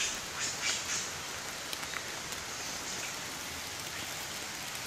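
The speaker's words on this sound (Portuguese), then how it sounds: "Não sei se dá para ouvir o barulho da chuva, mas tá caindo uns pinguinhos bem gordinho." Rain falls on a hiking trail on a rainy day at Atalaia, fat drops making a steady broadband hiss with a few faint patters and distant bird calls, no voices.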